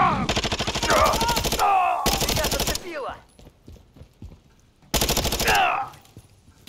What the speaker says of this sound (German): Digga, Farah, ich schieß die ganze Zeit in dein Bein.